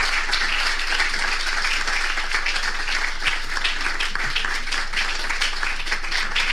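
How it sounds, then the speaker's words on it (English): An audience applauds after a speech, a dense, sustained round of clapping from many hands that stays steady throughout. "Can we make that round of applause more?"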